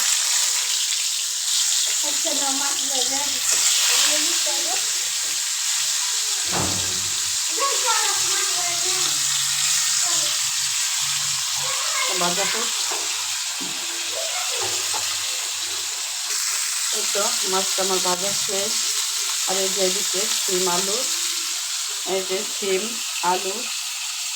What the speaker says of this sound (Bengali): তেলটা আমি দিয়ে দিচ্ছি গরম হয়ে গেছে তো মাছটা দিয়ে দেবো